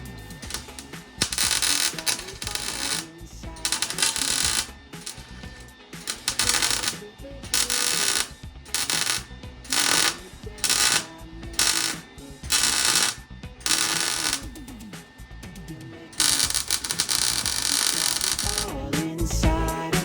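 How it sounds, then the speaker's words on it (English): Welding on a 1949 Chevy patina truck: loud, crackling broadband buzzes in repeated bursts of a second or two, separated by short pauses, over background music. "Now let's get this thing welded up."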